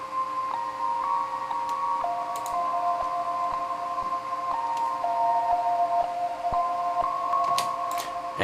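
A bell-like synth melody, processed with a gross beat effect, flanger and reverb, plays sustained, wavering tones in a slow repeating pattern. Faint clicks and a light noise bed sit beneath it, with no voices.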